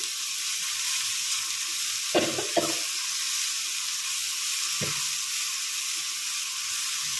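Vegetables for pasta, cooked to stay crunchy, fry over lowered heat with a constant soft sizzle; a few sharp stirring scrapes stand out from the hiss.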